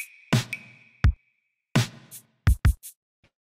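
A compressed drum group plays a sparse pattern of punchy kick and snare-like hits, close and dry, with short gaps of silence between groups of two or three strikes.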